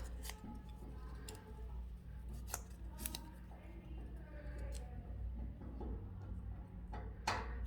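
Quiet snips of scissors trimming extra paper pieces for a checkerboard pattern, a handful of sharp cuts spread irregularly over a low steady background hum.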